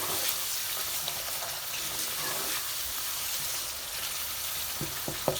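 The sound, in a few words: stirring yogurt into kofta curry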